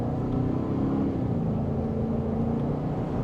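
A 2025 Ford Expedition Platinum MAX accelerating from second gear in manual mode, its engine a steady, fairly loud low drone heard from inside the cabin.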